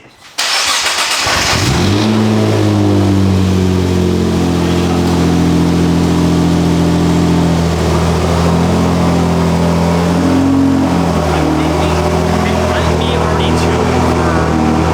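A rebuilt Nissan R35 GTR fires up after a short cranking burst, then settles into a loud, close, rumbling idle with rising and falling revs that hold for the rest of the stretch.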